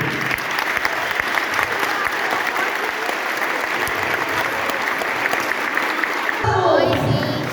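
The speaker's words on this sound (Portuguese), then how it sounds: "eu gostaria de uma salva de palmas não para mim," Audience at a school lecture in Jaguaquara applauding, sustained dense clapping throughout before it tapers off near the end.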